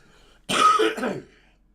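A single harsh throat-clearing cough, close and fairly loud, lasting under a second with nothing else around it.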